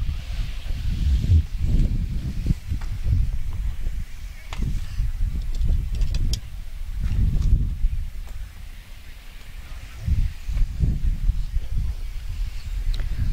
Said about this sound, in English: The wind is definitely picking up a little bit.